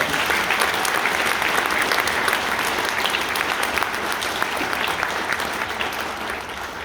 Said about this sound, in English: Give the high school band students a applause.